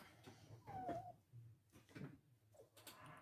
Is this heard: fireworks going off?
no